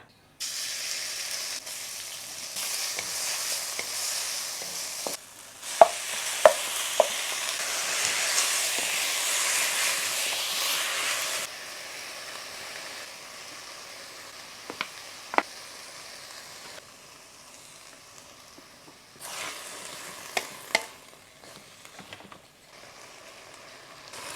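Steady hissing sizzle of a fried egg in a hot iron wok, loud at first then easing, with occasional sharp clicks and scrapes of a utensil.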